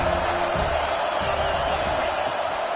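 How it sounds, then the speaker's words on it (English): A video game football stadium crowd roars steadily during a game, a dense continuous wash of cheering noise with faint talk underneath. "This crowd trying to make life miserable for this offense"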